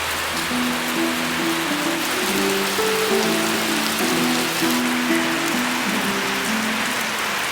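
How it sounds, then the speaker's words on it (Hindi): Heavy monsoon-style rain pours steadily outside a house in a hill village, a constant dense hiss throughout with no voices heard. "बाहर शुरू हो गई झमाझम बारिश।"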